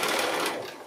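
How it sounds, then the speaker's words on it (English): A sewing machine runs steadily while stitching a fabric hem about a quarter inch from the folded lower edge, a close, continuous whirring buzz that eases slightly toward the end of the short burst. "I can just get into that on the sewing machine, just placing that fold in there, and I'm sewing about 1/4 inch away from that lower edge"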